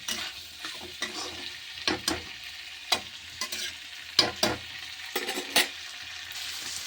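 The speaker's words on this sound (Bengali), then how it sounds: "এই দেখো মটর আমি ভালো করে কষে নিচ্ছি। তেজ আঁচে কষতে হবে।" Peas stir-fried on high heat in a pan for an aloo matar curry, giving a steady sizzle broken by sharp scraping and clinking strokes of a spoon against the pan, close up with no talking.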